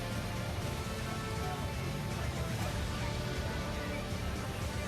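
Heavy rain pours down steadily during a prolonged downpour in Delhi, a dense, loud, unbroken hiss of water striking surfaces that continues without pause.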